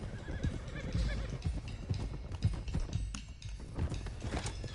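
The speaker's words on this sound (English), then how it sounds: "Get these horses to Clemens Cove quick before we run into any more trouble." Horses in a video game gallop with rapid clip-clop hoofbeats while neighing and whinnying, loud and close, with a game character's voice briefly heard over the herd.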